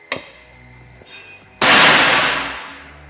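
SR air rifle firing at a target: a sharp snap, a fainter second report about a second later, then a loud, harsh blast that rings and decays slowly over more than a second, with no talk.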